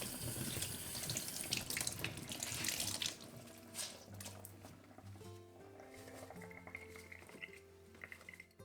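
Running tap water rinsing a flower-printed, naturally dyed fabric in a sink, a continuous splashing gush that eases after about three seconds into softer trickling with faint handling noises.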